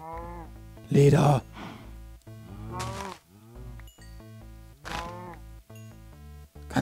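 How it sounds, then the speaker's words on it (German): Cows in the video game Minecraft moo in several separate calls spread across the stretch, loud and close, with someone talking excitedly between and over them. "Ganz viele Kühe."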